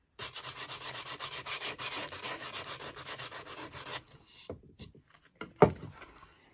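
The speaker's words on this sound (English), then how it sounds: "you don't need to hear me sand for the next 10 minutes because that's just noisy" Steady rhythmic sanding strokes on a decoupaged wooden footstool, close and fairly loud for about four seconds, then a few scattered scrapes and a sharp knock before it ends.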